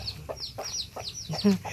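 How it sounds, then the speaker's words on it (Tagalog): Chickens clucking in short repeated bursts, fairly close, with one louder call near the end over a low background hum. "Ara may mga manok oh."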